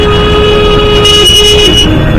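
In traffic, a vehicle horn sounds loud and close as a steady tone for about two seconds over the rumble of engines.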